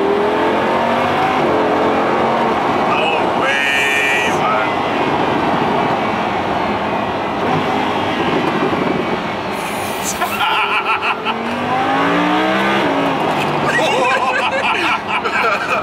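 A Lamborghini engine mounted just behind the cabin revs and downshifts while driving, surging and dropping in loud, close bursts under constant talk from the occupants.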